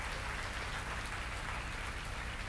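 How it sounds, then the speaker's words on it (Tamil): Sustained audience applause at a motivational speech for an author: a thick, even roar of many hands clapping throughout, rain-like in texture, with no voices over it. "அதுக்காகவே நம்ம ஒரு சிறப்பு கைத்தட்டல் ஐயாவுக்கு வந்து நம்ம கொடுக்கணும்."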